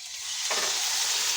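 Frogs dropped into hot cooking oil, a loud sizzle bursting in about halfway through and continuing as a steady bright hiss of frying.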